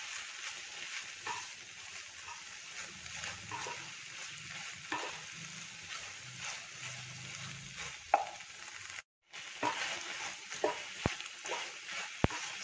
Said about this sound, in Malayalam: ടൊമാറ്റോ സോസ് ചേർക്കാം. നന്നായി മിക്സ് ചെയ്യുക.